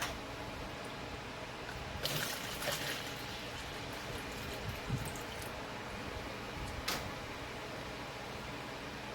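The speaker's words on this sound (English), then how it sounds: "I'm going to pour it over the sink so I don't make a gum." Liquid from homemade goat milk cheese poured over a kitchen sink, a soft, steady trickle with a few brief splashy bursts.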